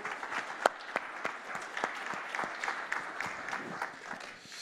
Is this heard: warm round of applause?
yes